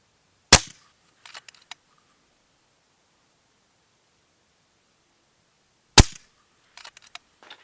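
FX DRS Tactical Sniper air rifle, a 25 calibre FAC model with a 700mm barrel, fires two sharp, loud shots about five seconds apart, each followed by faint mechanical clicks and rustling.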